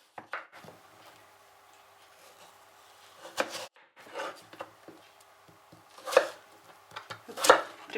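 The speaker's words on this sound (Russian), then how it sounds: "Очищенную тыкву нам надо нарезать на брусочки." Knife chopping pumpkin on a board, several sharp irregular cuts with quieter rustling between, close by, no talking.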